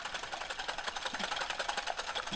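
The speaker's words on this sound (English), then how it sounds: "I'm just going to whisk them to just break them up" A wire whisk beats three room-temperature egg whites in a bowl, a steady rapid ticking and swishing that runs without pause at moderate volume.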